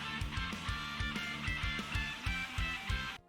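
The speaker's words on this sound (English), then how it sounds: "And then for this next part, the rhythm guitars change up so they're a little bit more energetic." Energetic palm-driven rhythm guitars with a lead harmonized a minor third lower drive over steady kick and snare hits in a full, loud rock mix for an anime-style opening.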